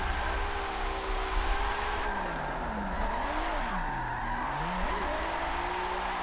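A BMW race car with a sequential shifter in a racing game, its engine droning steadily and rising and falling in pitch through gear changes and corners, with faint tire scrub, continuous and up close, no speech.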